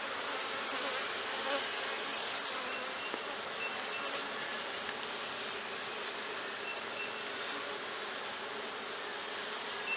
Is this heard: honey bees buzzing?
yes